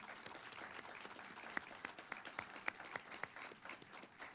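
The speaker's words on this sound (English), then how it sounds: "Let's give our candidates a round of applause." Applause from a crowd, a steady patter of many hands clapping with a few sharper claps standing out, moderately distant.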